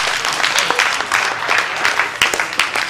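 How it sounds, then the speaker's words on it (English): Church congregation clapping hands during a sermon, a brisk burst of many claps with sharp individual hits standing out, moderately loud and uneven. "Give me another hand clap."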